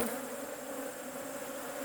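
Honey bees buzz steadily around hive frames as they are lifted and replaced, a dense, continuous hum close by with no talking.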